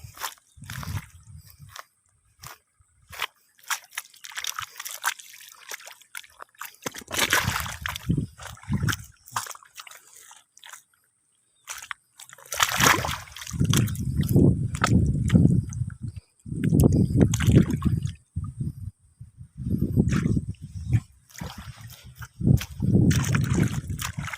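Water sloshing and splashing as it is scooped and poured into a bucket at a tomato farm, in several bursts of liquid pouring and splashing, with pauses and handling knocks in between.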